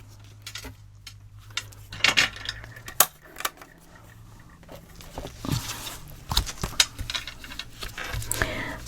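Paper being trimmed to width for a handmade mini album, heard as a run of sharp snips and crisp rustles with irregular clicks, close and moderately loud over a low steady hum, with no talking.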